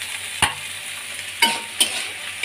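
Potatoes and onions fry in a pan with a steady, close sizzle, broken by three sharp scrapes of a spatula spaced about a second apart.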